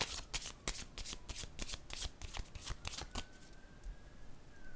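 Tarot cards are shuffled close up in a rapid series of crisp riffling bursts that slow and thin out toward the end, quiet and alone without any talk.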